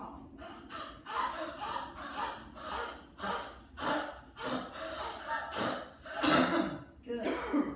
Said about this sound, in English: let's make that a little deeper by opening our mouth and turning it into sort of a cough